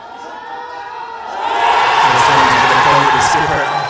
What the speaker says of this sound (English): listen to the roar and the cheer for just a single